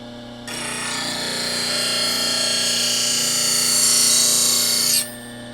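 A wood-turning gouge is rolled and swept against a spinning bench grinder on a platform rest, producing a steady, loud, close grinding whine with a constant motor hum that starts and stops cleanly.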